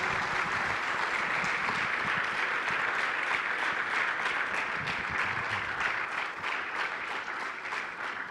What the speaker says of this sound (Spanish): Yo la verdad es que les pido un aplauso para esta